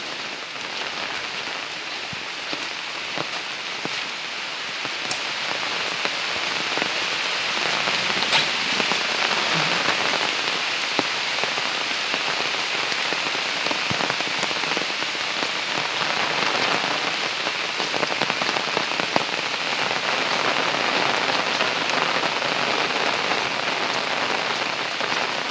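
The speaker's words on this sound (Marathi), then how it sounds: "पाऊस चालू झाला आहे." Steady rain falls through a forest in the Sahyadri Ranges, a dense continuous patter of drops on leaves and ground that stays constant and fairly loud with no voices.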